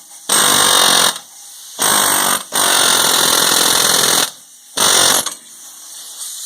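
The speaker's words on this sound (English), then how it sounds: "we're going to get in there with a pickle fork" A pickle fork is hammered in to separate an upper ball joint, heard as four loud, close bursts of rapid mechanical pounding separated by short pauses.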